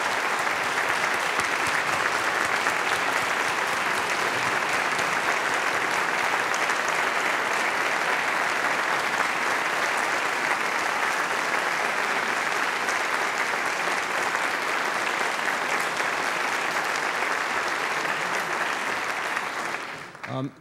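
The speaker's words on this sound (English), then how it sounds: "deserves a major round of applause for that kind of commitment" Sustained applause from a large audience at a university performing arts center groundbreaking ceremony, steady and dense clapping for about twenty seconds before it tapers off at the end.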